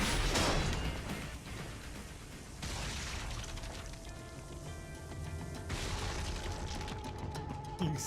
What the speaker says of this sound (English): Explosions are a nice touch.